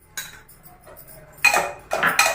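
Grated bottle gourd drops into a pan of hot ghee, with clinking and scraping of a utensil against the metal. Short bursts of rustling and clatter come after a quiet start and grow louder near the end.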